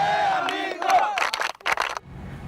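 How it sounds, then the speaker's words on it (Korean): A crowd of Korean supporters cheers and shouts the rhythmic "Dae-han-min-guk" chant together, loud and close, the voices rising in short bursts and then dropping off abruptly. "모두가 한마음이 되어 외치는 대한민국."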